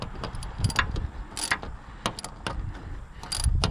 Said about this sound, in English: those bolts, they just feel like they don't want to be tightened